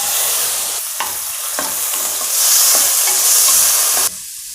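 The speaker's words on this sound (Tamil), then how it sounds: "இஞ்சியை வதக்கிக்கலாம்." Ginger sizzles loudly in hot sesame oil, a steady frying hiss broken by a few scraping stirs of a spatula against the pan.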